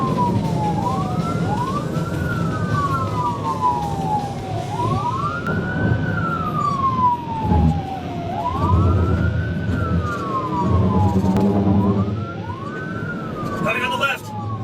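A police car's wailing siren rises and falls repeatedly during a highway pursuit, loud over steady road and engine noise, with a voice briefly heard near the end.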